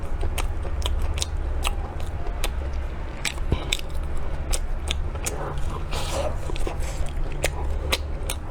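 Close crunchy bites and chewing of a pan-fried chive pastry filled with lard and chives, steady moist mastication with crisp crackles throughout, no talking.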